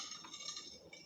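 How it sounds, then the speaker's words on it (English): A spoon gently stirring a tablespoon of lemon juice into milk in a bowl to make buttermilk, a brief faint clink and swirl, quiet and close. "add 1 tablespoon of lemon juice, like this. And then slightly mix it."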